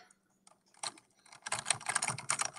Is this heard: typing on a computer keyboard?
yes